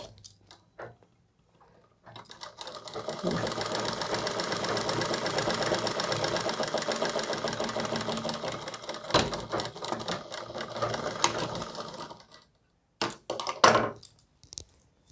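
A sewing machine runs in one sustained burst of about ten seconds, stitching the corner of a round collar on a suit, then stops, followed by a few handling clicks and thumps; no talking.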